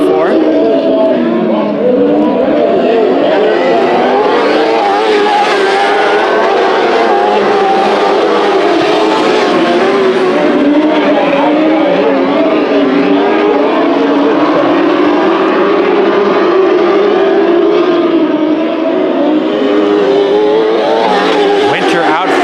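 Race cars roar around Bakersfield Speedway during Saturday heat races, a pack of engines loud and continuous as they exit a turn, with a commentator talking throughout.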